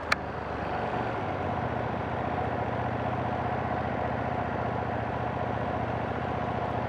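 A Ducati Streetfighter V2s twin-cylinder engine runs steadily at low speed in second gear through town, with a constant close, even throb that holds at the same level throughout.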